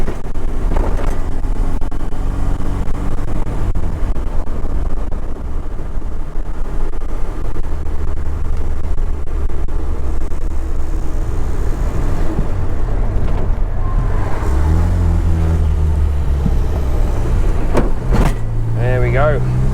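A 1967 Morris Minor with drum brakes drives on the road after 23 years off it, its engine a steady low rumble from inside the cabin, with someone talking over the drive.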